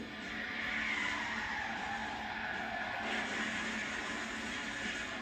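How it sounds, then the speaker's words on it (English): A car skids and spins out during a police chase on a Melbourne, Florida highway, with loud, sustained tire squeal and engine roar holding steady for several seconds. "In a final burst of speed, he dodges around in front of the officer and spins out of control."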